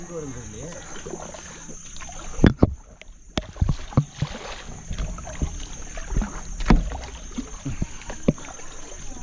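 Kayak paddling through clear water at Klong Root in Krabi, Thailand, with paddle strokes dipping and splashing at irregular intervals beneath someone speaking throughout.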